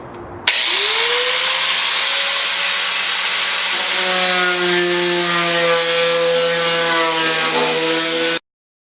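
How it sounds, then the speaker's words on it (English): An angle grinder works a small rust hole in a car body, starting abruptly and running continuously at close range with a loud, harsh abrasive roar and shifting whine for about eight seconds before cutting off. "So I'm going to use my grinder"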